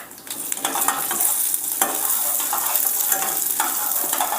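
Mustard seeds, cumin and lentils fry in hot oil in a kadai, giving a loud, steady crackling sizzle with scattered pops and no talk.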